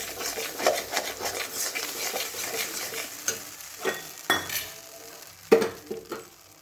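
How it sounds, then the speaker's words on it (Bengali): Cashew and poppy seed paste fries in a pan as a soft sizzle, broken by several sharp clinks and scrapes of a spoon stirring against the metal. "এখানে কাজু আর পোস্ত বাটাটা দিয়ে এটা আরেকটু ভাজবো।"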